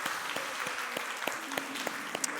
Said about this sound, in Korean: 우리 격려 박수 한번 해주시겠습니다.